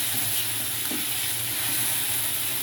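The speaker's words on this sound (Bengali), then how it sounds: "এটা আস্তে আস্তে নাড়তে নাড়তে দেখুন একটু একটু তেল ভাসা হয়ে যাবে" Spice paste for green banana kofta curry frying in hot oil, a continuous loud sizzle with soft scraping as it is stirred slowly in the pan.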